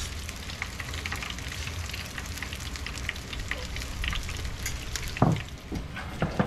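Oyster cakes fry in hot grease at about 350 degrees after being turned over, making a steady, dense crackle and sizzle with a few louder pops and spatters near the end.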